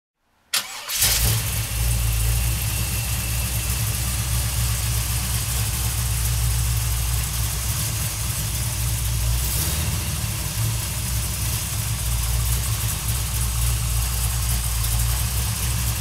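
A 502 big-block V8 engine in a 1941 Willys pro street car cranks and catches, then settles into a loud, steady, rumbling idle that carries on without a break.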